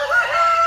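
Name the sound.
silver Silkie rooster crowing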